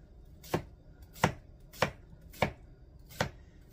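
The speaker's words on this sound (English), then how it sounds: "I want to chop it in half because I don't want great big huge pieces in my salad" Five crisp knife chops through cucumber on a cutting board, evenly spaced about every 0.65 seconds, close and distinct against a quiet background.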